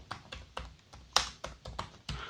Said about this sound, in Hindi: यहाँ पे थर्ड कॉलम में आपको अपना नाम टाइप करना है।